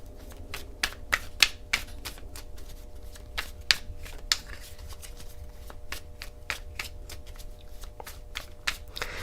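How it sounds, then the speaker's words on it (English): Cards are shuffled repeatedly, a series of sharp riffling flutters and taps at an irregular rhythm, close by and fairly quiet, with no talking. "I know everybody hates the shuffling."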